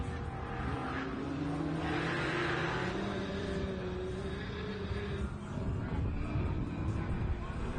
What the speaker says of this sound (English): Nice little race going on right now in the Class 11 cars between Boswell and Boyer